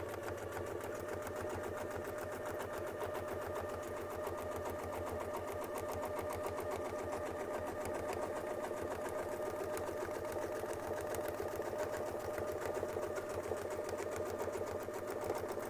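A sewing machine stitches a quilt guided by a Westalee Spin E Fex 14 ruler, running in a steady, even rapid hum throughout with no pauses.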